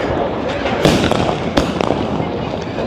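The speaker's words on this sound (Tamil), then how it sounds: "வெடியண்டா பயங்கரமான வெடிகள் எல்லாம்." Firecrackers go off in sharp, loud bangs on the streets of Chennai, two standing out, over a crackling, noisy outdoor background.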